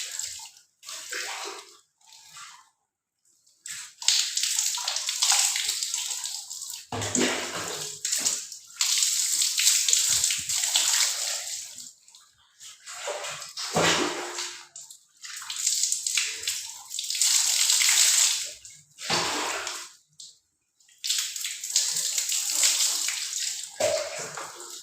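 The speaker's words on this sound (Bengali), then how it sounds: "আমি ঠান্ডা জল দিয়ে ভালো করে চুলটাকে ধুয়ে নেব।" Water pours and splashes in a shower or tub while hair is rinsed with cold water after a Sunsilk shampoo wash, coming in bursts with brief pauses, close and loud, with no talking.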